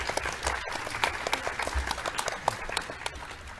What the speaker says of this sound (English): we should give her a quick round of applause for everything she does